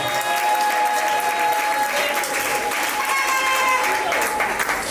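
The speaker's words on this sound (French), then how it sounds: "Est-ce qu'on peut acclamer très fort pour sa nouvelle nomination?" Loud, sustained applause from a gathered crowd at a customary ceremony, a dense steady clatter of clapping hands filling the whole stretch without pause.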